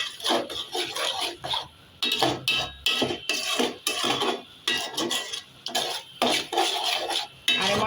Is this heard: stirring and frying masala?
yes